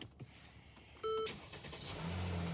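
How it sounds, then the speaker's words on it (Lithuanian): A 2017 Mercedes-Benz GLS 450 4MATIC engine starts up: a brief tonal whine from the starter, followed by the low, steady rumble of the engine settling into idle, heard fairly close. "Variklis vedasi visiškai be problemų."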